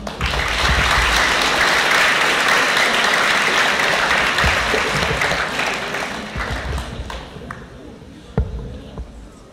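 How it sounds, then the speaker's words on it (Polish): Loud applause fills a room at a school election debate, a dense burst of many hands clapping that holds strong for several seconds, then thins out into scattered final claps and a few knocks. "Okej, poproszę o brawa."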